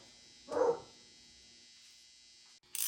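One sharp dog bark rings out in a quiet room, followed by a pause and the start of another bark at the end.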